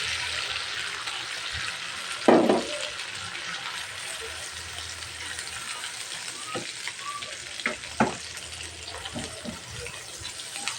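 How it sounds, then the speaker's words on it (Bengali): Noodle mixture frying in a pan with a steady, close sizzle throughout, broken by a few louder scrapes and clacks as it is stirred. "একসাথে আমি মিশিয়ে একটু ভেজে নিচ্ছি"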